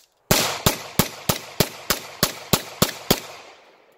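Tisas Regent BR9 9mm pistol fitted with a Browning Hi Power barrel and fed from a 13-round Browning Hi Power magazine, firing ten sharp, loud shots in a quick, even rhythm, each with a short echoing tail and no talking.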